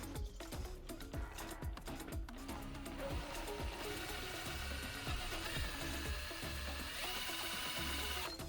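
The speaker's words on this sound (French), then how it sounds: "je mets la perceuse au bout de la tige filetée et je la fais tourner" A power drill spins a threaded rod while a grey-water tank is fitted under a bus being converted into a camper, whirring steadily for several seconds after a few short clicks and knocks.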